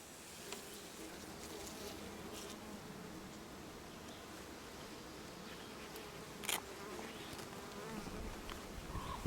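Honeybees buzz steadily around an open hive while a brood frame is inspected, a dense, continuous drone with occasional rustling and handling sounds close by.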